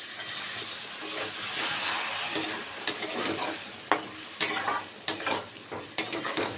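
Poppy seed paste fries in a pan for a vegetarian Malabar spinach dish, giving a close, steady sizzle. A spatula scrapes and clinks against the pan several times, and the strokes grow sharper and more regular toward the end.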